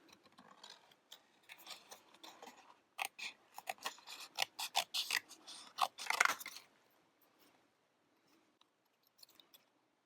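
Scissors snip through paper to cut out an arm shape for a craft, a quick run of crisp close cuts that starts sparse, grows dense and then trails off into quiet.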